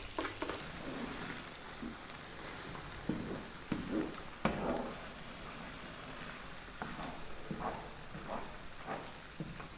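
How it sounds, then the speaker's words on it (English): Lamb dry fry sizzles steadily in a pan as cilantro is mixed in, a dense continuous crackle with periodic scraping thuds of the stirring spoon, loud and close throughout. "cilantro, coriander, whatever you call it, get that in. Give that a mix."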